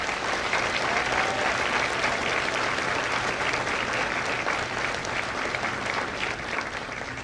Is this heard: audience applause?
yes